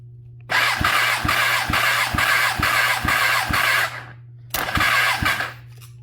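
Kawasaki ZX10R motorcycle engine cranking over on the starter in two bursts, a steady rhythmic whirring with regular compression pulses, close and loud with a short pause between runs, no engine catch.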